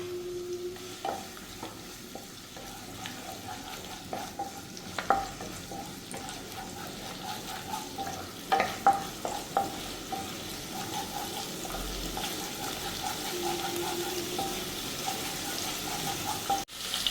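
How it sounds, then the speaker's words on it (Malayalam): Garlic and ginger stir-frying on a high flame for chilli chicken, a steady loud sizzle running throughout with scattered light clicks and scrapes of a spoon against the pan. "ഇത് ഒരു സ്പൂണ് വെളുത്തുള്ളി നമുക്ക് ഇട്ട് കൊടുക്കാം ഹൈ ഫ്ലെയിമിലാണ് ചൈനീസ് എല്ലാം ചെയ്യുന്നത്"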